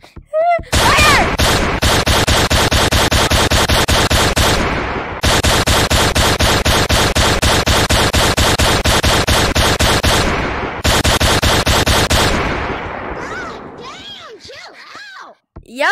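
Rapid automatic gunfire from the Gorilla Tag VR game, a dense continuous burst lasting about ten seconds with a brief gap, loud and close, tapering off near the end.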